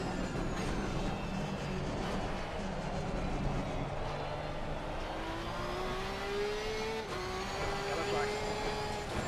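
A Porsche 992 race car engine in a racing sim at Hungaroring drones loud and steady throughout, its pitch rising with a distinct whine and shifting near the end, under a continuous roar.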